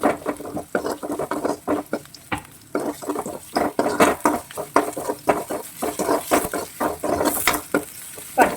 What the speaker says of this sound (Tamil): இதை நல்லா ஃப்ரை பண்ணுவோம்.